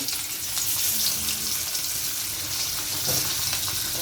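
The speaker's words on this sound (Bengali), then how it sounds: "তেলটা গরম হয়ে গিয়েছে, এখন আমি মাছগুলি কড়াইতে দিয়ে দিব" Hilsa fish pieces frying in hot oil in a wok, a dense steady crackling sizzle that fills the scene evenly from start to finish, fairly close, with no speech.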